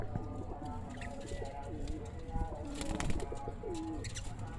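Soft coos from fighter pigeons repeat under a low background hum and faint rustling, with a few scattered chirps and thumps close by.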